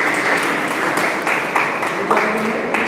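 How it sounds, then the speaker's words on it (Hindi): A school merit award ceremony audience claps steadily throughout, a dense, continuous applause with slight swells and no voices over it. "जोरदार तालियां प्रतीक के लिए।"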